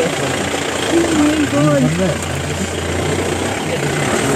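A vehicle's engine idles with a low, steady rumble at the start of an off-road drive in North Sikkim, close by, while people talk over it.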